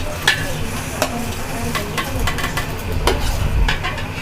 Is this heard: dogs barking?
no